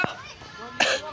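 A person coughs twice, a short harsh burst at the start and a louder one near the end, close to the microphone with a little voiced sound between them.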